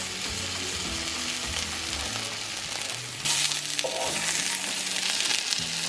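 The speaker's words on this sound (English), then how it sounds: "form it into 3 patties and cook them until it's cooked through" Turkey burger patties fry in a preheated pan, giving a steady sizzle with light scraping and clatter, then a louder, brighter hiss partway through.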